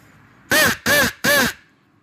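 A Flex Tone turkey call blown to mimic a crow gives three loud, close caws of equal length in an even rhythm, each a harsh, buzzy, nasal note. The caws sound alone, with near silence between them.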